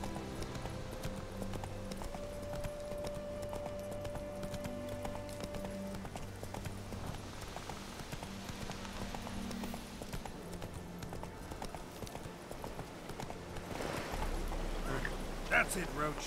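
Roach, a horse in The Witcher 3, gallops with rapid clip-clop hoofbeats, mixed with game music tones and a person talking over it.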